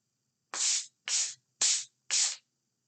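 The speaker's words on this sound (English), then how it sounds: "the second sound was the sandbox" Sandblocks are rubbed together in four even, raspy strokes, close and evenly spaced with no talk.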